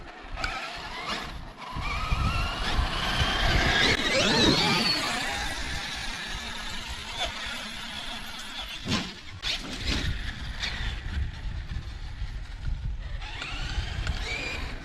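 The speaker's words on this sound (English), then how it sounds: "I think there are small stones that are grinded down to dust" Continuous gritty grinding and squealing from a small RC car with a Leopard 58110/950 motor, small stones grinding to dust inside, rising and falling with revving, with crunching scrapes throughout.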